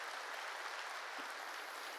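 Congregation applauding to give glory to God at a Korean New Year's Eve church service, an even, continuous wash of many hands clapping at moderate distance.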